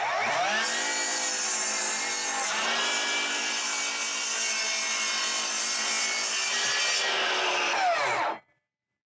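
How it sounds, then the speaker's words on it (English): A battery-powered miter saw bites into a worn wooden board with a loud, continuous high-pitched cutting whine, close up, dipping once mid-cut before spinning down and stopping abruptly, with no voices. "he's got a battery-powered miter saw"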